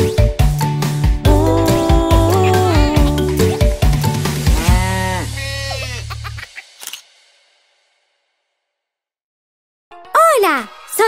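A sung children's song about a cow, with mooing sounds delivered as melodic vocal imitations over bright music, then the music stops and a near-silent gap follows before a brief vocal burst returns.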